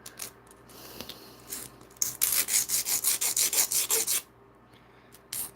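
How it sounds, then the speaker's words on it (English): Rapid back-and-forth filing of acrylic nails, a burst of about ten crisp rhythmic scratching strokes in the middle with lighter scrapes before and one short pass at the end, close and alone. "It's this hand that's probably going to need a little bit of filing because some of these nails are crooked."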